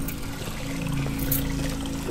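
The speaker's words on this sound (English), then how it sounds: "I'm gonna take a shower." Running shower water in the Amnesia mod White Night, a steady hissing stream with a few splashy surges, fairly close and continuous, no talking.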